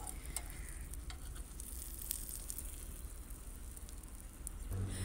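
A cheese bread omelette fries in a pan, giving a steady, soft crackling sizzle throughout with light scraping near the end.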